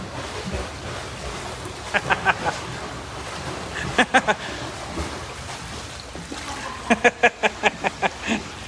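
Swim spa jets drive a steady, rushing churn of water, broken by short runs of rhythmic electronic beeps.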